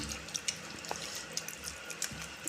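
Water trickles and splashes steadily into a bowl of tamarind, with a few soft clinks, close by and fairly quiet.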